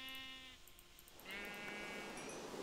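Sheep in the modded Minecraft pack FTB bleat in a few harmonic calls, one near the start and a louder one after a short pause, standing alone with no talk.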